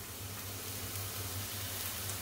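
Peas fry in a little oil in a pan over a full gas flame, giving a steady, soft, even sizzle with a low hum underneath and no talking.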